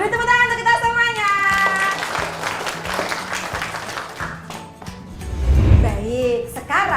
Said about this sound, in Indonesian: Beri tepuk tangan untuk kita semuanya.